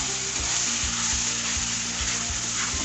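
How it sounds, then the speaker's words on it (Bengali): Ground spice paste for paneer frying over low heat: a dense, continuous close sizzle with a faint steady hum beneath and regular soft stirring thumps about every half second, no voices. "মশলাটাকে একটু ভালো করে কষতে হবে"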